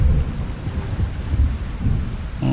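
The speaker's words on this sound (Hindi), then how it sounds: "तेज आंधी और बारिश शुरू हो गई थी।" Heavy rain pours down during a thunderstorm with strong wind, and deep thunder rumbles continuously under the dense, loud downpour.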